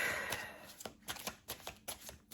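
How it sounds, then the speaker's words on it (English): Tarot cards riffled and shuffled in a quick series of crisp, papery bursts, close and fairly quiet, with short pauses between shuffles. "I hope the shuffling wasn't too loud."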